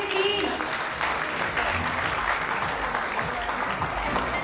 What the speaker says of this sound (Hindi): तालियों में कंजूसी मत कीजिए प्लीज।